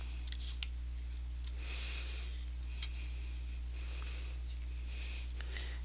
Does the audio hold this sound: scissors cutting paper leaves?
yes